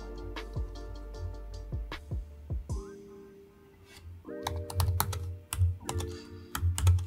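Keys clatter on a computer keyboard on a Mac, with short clusters of crisp taps, pauses between bursts and a faster run of typing near the end, close and clear with no talk.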